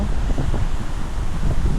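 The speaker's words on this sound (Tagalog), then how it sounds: "dahil nga sa lakas ng hangin" Strong wind buffets continuously at a mountain viewpoint in Tadian, Mountain Province, a loud rumbling roar with no voices.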